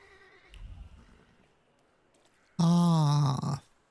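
A horse drawing a carriage in the video game The Thaumaturge lets out a loud, close whinny lasting about a second, after a few soft hoof-like thuds over a quiet background.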